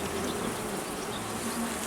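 Dense, continuous buzzing of many honeybees at beehive nucleus boxes, close and loud, a steady swarm hum with no pauses or other sounds.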